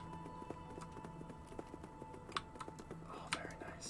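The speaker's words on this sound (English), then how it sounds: "Listen, the footstep noises change." Footsteps in Kerbal Space Program 2 shifting onto a different surface material: a steady run of soft, regular taps under a faint tonal hum, with a couple of brighter clicks standing out.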